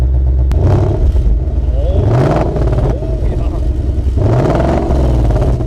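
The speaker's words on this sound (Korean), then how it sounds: "이 배기음이 이 자연흡기 그리고 고배기량 이 차량 같은 경우는 소리가 좀 걸걸걸걸걸걸 거리는 이런 박자음이 살짝 들립니다" A naturally aspirated Ford Mustang 5.0 V8 idles loudly close by, its exhaust rising in two or three short revving blips that fall back to a burbling idle, with voices talking over it.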